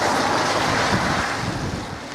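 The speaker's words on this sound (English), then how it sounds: "it's windy, it's raining." Steady roaring wind buffets the microphone in the Peak District, a dense broadband rush with a constant wash of heavy rain beneath it, loud and unbroken throughout.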